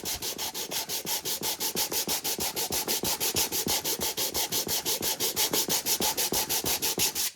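Rhythmic back-and-forth sandpaper strokes rub across a glued-up wooden Bluetooth speaker box, about five to six strokes per second, close, steady and continuous with no talking.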